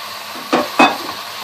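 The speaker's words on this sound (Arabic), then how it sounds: "هنزل بقى باللحمه عليها، طبعا لازم النار تكون عالية علشان اللحمة ما تنزلش مية." Minced meat hitting a hot pan of onions over high heat, two quick stirring scrapes and sizzles close up against a steady low frying hiss.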